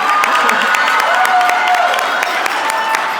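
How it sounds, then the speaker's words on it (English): Wedding guests applaud and cheer in a dense, steady burst of clapping and whoops that lasts throughout, with a voice or two standing out above the crowd. "I think they need another round of applause."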